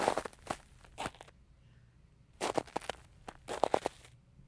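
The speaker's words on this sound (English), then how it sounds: "You could hear the crunching of the snow as somebody marched through the snow." Footsteps crunch through snow in two bursts of crisp, crackly steps, close and fairly faint, separated by a quiet pause.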